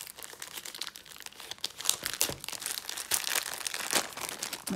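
Plastic zip bag holding a Christmas craft kit being handled and opened, a steady run of close crinkling and rustling with a few sharper crackles, no talking.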